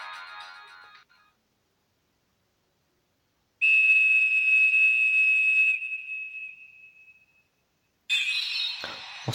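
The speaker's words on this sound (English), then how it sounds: "When he uses his whistle, something's going to summon" Summoning whistle in Dragon Quest 9, a short high chirp, then a sustained clear whistle tone that fades out, followed by a sharp bright jingle at the end.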